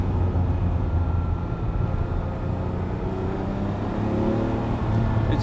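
Ferrari 512BBi engine pulling hard on the road, heard from inside or near the car as a steady, loud, rumbling drone that stays at full level throughout with no one talking.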